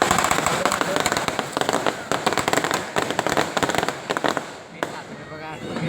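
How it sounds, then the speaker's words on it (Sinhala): Firecrackers set off at a funeral rite for a Buddhist monk, a dense rapid string of sharp crackling bangs, loud and close, with voices talking beneath. "මල් වෙඩි හල්ගස්සනවා"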